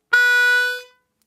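A single 3 draw note on a C harmonica, a bright reedy tone held for under a second, close and fairly loud, fading out quickly.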